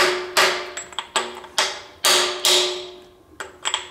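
A hammer beats on a socket to seat an engine freeze plug: about eight sharp metallic strikes in an uneven rhythm, loud and close, each ringing briefly.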